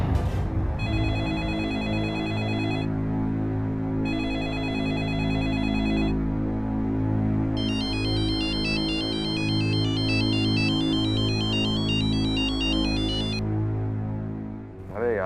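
A telephone ringing in a Hindi TV drama, bursts of electronic trilling ring in repeated spells with a longer warbling burst, over a loud sustained music bed.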